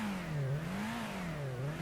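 Nissan Silvia, a front-engine rear-drive car in Gran Turismo on the PS1, holds a steady droning engine tone that rises and falls gently as the revs shift, close and continuous with no talk.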